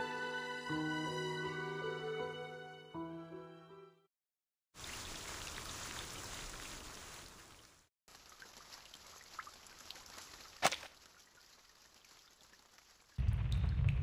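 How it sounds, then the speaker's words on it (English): Steady rain pours and patters on surfaces outside in the game Reverse: 1999, a dense hiss that starts after a soft musical passage, with a brief sharp knock near the end and a heavier low rumble at the close. "Did you hear it? It's the rain! It's raining outside!"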